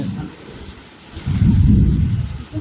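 Heavy rain with a deep, rolling rumble of thunder after a spell of intense heat, the rain hissing quietly at first before the loud thunder swells in and rumbles on to the end.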